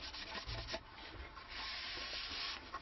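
A wet cloth wiped over a sanded wooden stick dulcimer to raise the grain, giving faint, close, soft rubbing strokes in a steady back-and-forth rhythm with no talk.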